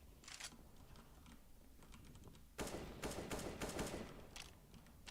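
AK rifle fire in a first-person shooter game: a few faint early shots, then a louder burst of rapid automatic rounds from about the middle onward, with clicky keyboard-like clatter running underneath the whole time.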